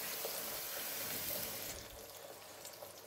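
Water is poured into a pot of stewing onions, a soft steady running and splashing sound that eases off partway through, with no talking.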